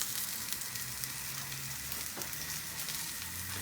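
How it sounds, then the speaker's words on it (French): Mushrooms frying and browning in a pan while white asparagus and soft-boiled eggs are prepared, giving a steady, dense sizzle that crackles evenly throughout, close and moderately loud, with no talking. "On laisse réellement quelques instants afin de laisser au champignon le colorer."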